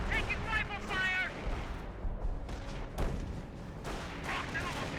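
Mortar fire in the real-time strategy game Company of Heroes 1 sounds as repeated dull booms and crackling battle noise, mixed with in-game voices shouting over the fighting.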